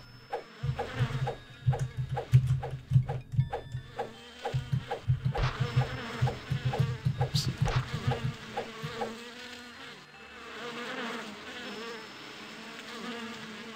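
Bees buzzing in a video game, Phocas Island 2 map for Doom, a loud rhythmic series of insect drones pulsing in quick succession, then fading to a steadier softer hum with no talk.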